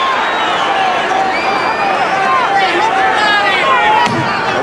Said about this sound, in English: the crowd now cheering Holmes' combinations